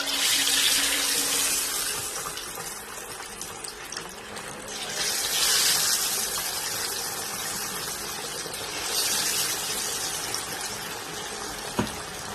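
Rohu fish pieces are dropped into hot oil in a kadhai and deep fry with a loud, continuous sizzling hiss. The hiss swells in waves as more pieces go in, and a small clink is heard near the end.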